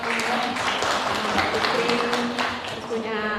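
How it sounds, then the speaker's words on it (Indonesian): An audience at an Indonesian teachers' training session claps in a sustained burst of applause while a voice talks over it. "tepuk tangan untuk Ibu Retno"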